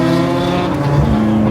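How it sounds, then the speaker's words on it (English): An Apollo IE supercar pulls up in a convoy alongside a Bugatti Chiron, its loud engine droning steadily and close with a rising tonal whine, continuous and without talk. "There we go, the Apollo IE pulling up."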